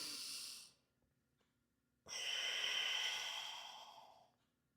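A single long, steady exhalation during a yoga hamstring stretch, breathy and close, following a short earlier breath and a pause of near silence.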